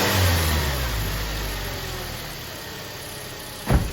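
A car engine fitted with an E85 flex fuel kit revs once and then settles back toward idle in a steady mid-pitched drone, loud and close, ending with a brief thump and no talk.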